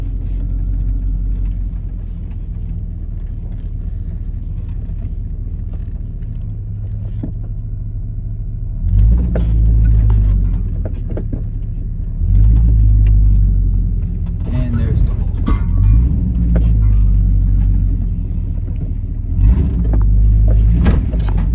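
An old truck grinds through a deep muddy puddle on a rough road trip track, its engine rumbling loudly and surging in repeated heavy bursts while people talk in the cab.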